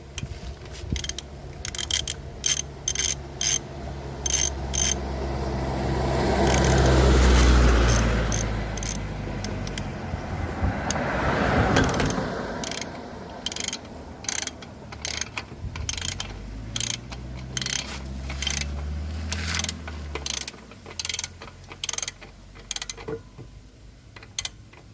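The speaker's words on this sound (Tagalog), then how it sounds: "Saka natin igpitan yung nandito sa labas, yung tornilyo dito sa labas." Ratchet tool tightening the outer screw on a motorcycle exhaust pipe: a long run of rapid close clicking in regular bursts, with a steadier mechanical whir in the middle, no speech.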